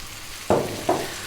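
Shredded white cabbage is tossed in a hot pan for Chinese ginger garlic cabbage: two quick, loud sizzling bursts about half a second apart over low background noise.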